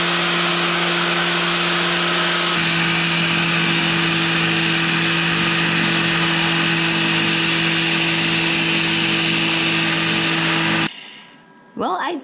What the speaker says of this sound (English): So now I'm going to use this grinder.